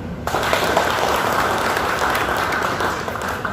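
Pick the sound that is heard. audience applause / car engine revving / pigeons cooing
audience applause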